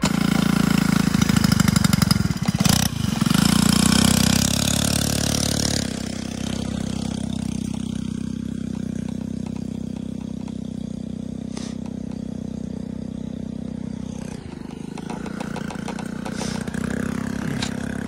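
Motorized bike engines idle close by with a steady rough putter, with a louder rev and burst near the start and a quieter continuous chug afterward.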